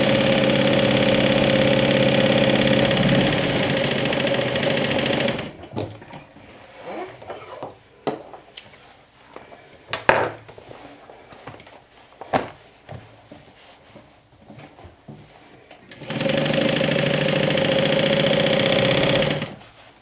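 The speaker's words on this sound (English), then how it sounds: "Now sew your bottom closed on both the lining and the main." Sewing machine stitching the bottom seam of a fabric bag's lining and main body, running in a steady loud whir, pausing for rustling and clicks of handling, then whirring again.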